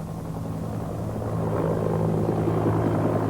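A government helicopter comes in over a football field near a house above Medellín, a steady rotor drone with a low throb that builds slightly as it nears, with no voices.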